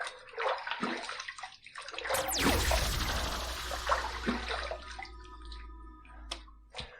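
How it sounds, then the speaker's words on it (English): Hot water pours into a sink during a shaving routine, a continuous close splashing rush with a louder burst partway through, then trickling off amid small clatters. "I'm going to take this hot water that's on the soap there. I'm going to put it in the sink."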